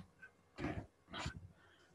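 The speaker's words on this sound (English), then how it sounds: "No, my little doggy is making noise." A small dog makes two short, faint huffing or whining bursts about half a second apart in a quiet room.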